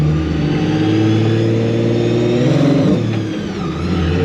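A supercharged Nissan 350Z with a Procharger revs loudly up close, a continuous harsh engine drone that swells and shifts pitch near the end.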